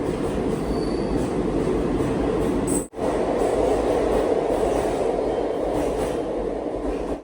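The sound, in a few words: train running on rails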